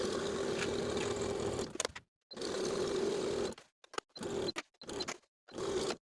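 A sewing machine runs in several bursts while stitching the seams of wide-leg pants, pausing and restarting for backstitching; a steady close whir in stretches of about two seconds, then short stop-start runs.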